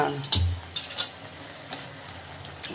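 Ginger garlic paste fries in a home kitchen pan with a soft, steady sizzle. Several sharp clinks from a utensil striking the pan sit on top of the sizzle, and one of them lands near the start.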